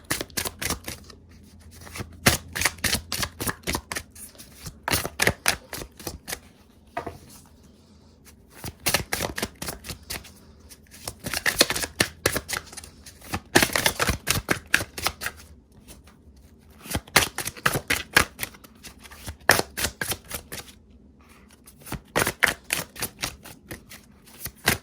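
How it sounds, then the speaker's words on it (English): Tarot cards are shuffled over and over, making rapid crisp riffling bursts in repeated waves with short pauses between them, close and clear with no talking. "I'm going to pull some beautiful cards out of this"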